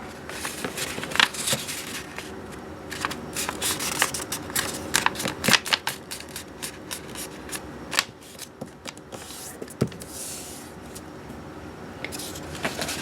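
Paper crinkles and rustles up close as a square origami sheet is folded and unfolded for a tulip, with sharp crease snaps scattered among softer handling sounds and no voices.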